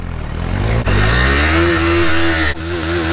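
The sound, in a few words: TVS Apache RR310 motorcycle revving during tire burnout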